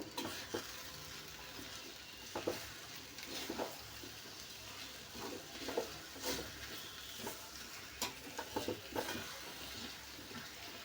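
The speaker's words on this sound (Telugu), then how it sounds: "మరొక 2 నిమిషాలు ఇదే విధంగానే కలుపుకోవాలి, ఎక్కడ ఉండలు అనేవి లేకుండా" Mango kesari mixture gets stirred in a pan over heat, with a soft continuous sizzle and a recurring scrape and knock of the spoon against the pan every second or so, heard close and fairly quiet without any talking.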